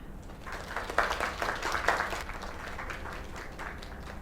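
A small crowd claps in a fairly even burst that swells briefly and then holds steady, moderately loud and slightly distant, with faint background chatter.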